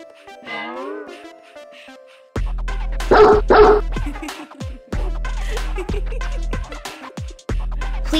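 Dogs barking in loud, rapid bursts through the second half, with repeated sharp yaps close to the mic after a brief quieter opening voice-like sound.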